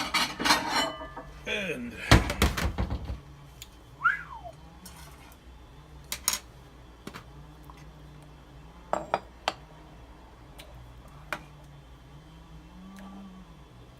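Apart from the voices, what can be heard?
ladling clam chowder into a bowl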